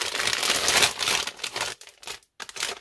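An empty vegetable chips snack bag being crinkled and crumpled by hand, loud close crackling rustles in a dense burst that then breaks into a few shorter crinkles with brief pauses.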